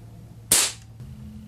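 A Crosman 1377 air pistol with a custom 18-inch Crosman barrel fires once up close, a single sharp, loud crack that decays quickly, with faint background hum before and after.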